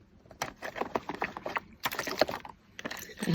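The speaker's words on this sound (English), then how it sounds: "I'm going to spritz this with water." A spray bottle spritzes water onto a stencilled craft tag, giving a series of short hissing bursts in quick irregular succession, close up and moderately loud with no voices.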